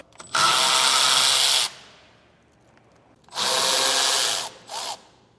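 Power tool driving a 9/16 socket to remove nuts from an electric trailer brake assembly on a flatbed trailer: a loud, close whir of about 1.3 seconds, a pause, then a second longer run ending in a short burst.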